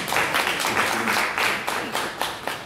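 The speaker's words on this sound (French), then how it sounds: "Et parlons d'applaudissements. Merci d'applaudissements." Applause at a community conference: a small crowd claps in a brisk, uneven patter that swells and fades over a few seconds, with some voices murmuring underneath.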